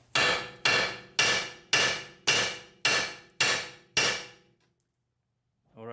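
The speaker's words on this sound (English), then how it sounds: "when we tap the control arm down, the ball joint should be disconnected from the steering knuckle" Seven evenly spaced hammer blows ring on the control arm of a Nissan Murano to separate the ball joint. Each strike is sharp and metallic with a short ringing decay, and silence follows the last one.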